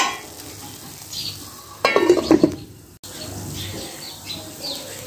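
Suji halwa cooks in ghee in a pan, giving a soft continuous sizzle with a brief burst of stirring and scraping in the middle, then a quieter sizzle again.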